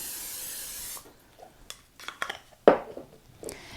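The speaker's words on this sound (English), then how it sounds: "I'm just going to spray the bottom of it with some nonstick spray" A loud, steady hiss of nonstick cooking spray onto the bottom of a baking dish lasts about a second, followed by light clinks and taps of the dish being handled.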